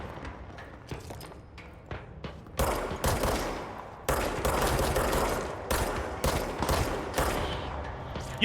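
Rapid bursts of gunfire from the action video game Control ring out in loud, dense volleys, with scattered shots early that give way to sustained heavy firing from about the third second onward.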